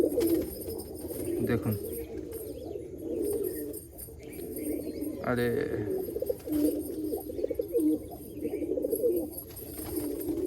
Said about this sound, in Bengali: পায়রা খুব সুন্দর একটা পায়রা ছিল।